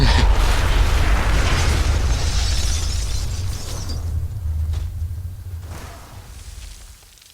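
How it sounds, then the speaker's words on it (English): A nuclear explosion in a video game: a loud, dense roar of rumble and crackle that rolls on for several seconds, then thins and fades with scattered pops, heard alone without talk. "Kaboom! Nuclear explosion."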